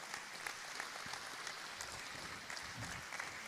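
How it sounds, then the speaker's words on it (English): Faint, distant applause from a crowd at a GAA club draw event fills the background as a steady wash of soft clapping, with no voices on top. "Big round of applause."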